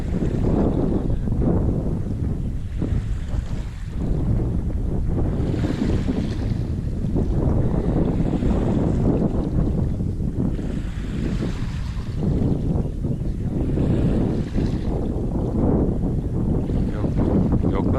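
Strong wind roars steadily across the microphone on a beach while surf fishing at Çanakkale, buffeting in gusts, with a faint wash of water in the background.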